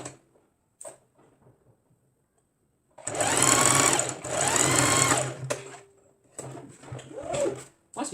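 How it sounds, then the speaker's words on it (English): A sewing machine stitches fabric for a racerback tank top in two loud, close bursts of a few seconds each with a short pause between, set among quiet handling sounds. "I'm going to stitch here. Bring in the machine."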